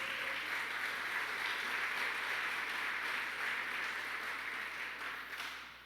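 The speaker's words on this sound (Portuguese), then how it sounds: "aplauda bem forte o nome de Jesus" A church congregation claps hard and continuously, a thick, even roar of applause that holds steady and then begins to ease off near the end.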